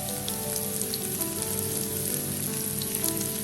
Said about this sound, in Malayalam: നമുക്കിനി നമ്മുടെ പാവയ്ക്ക ഫ്രൈ ചെയ്തെടുക്കാം